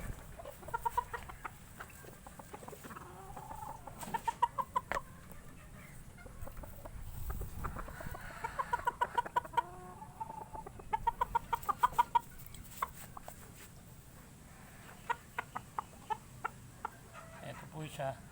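Breeder gamecock chickens cluck repeatedly up close in a farmyard setting, with short, sharp bursts over a low background, while a person talks at times.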